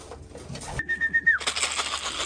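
Racing pigeon hen coming into the loft, with soft cooing, a whistle-like tone and a burst of wing flapping near the end, close and without speech.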